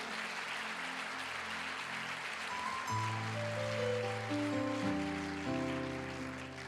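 A congregation in a Chilean church service claps in a steady wash of applause, with sustained keyboard or organ chords rising and shifting beneath it.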